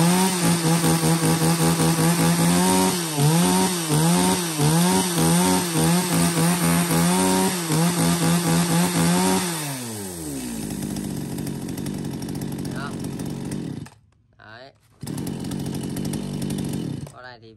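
An Echo Kioritz chainsaw from a lot of used Japanese saws is test-started and runs loud and close, revving in rhythmic pulses for about ten seconds before dropping to a steady idle that briefly cuts out.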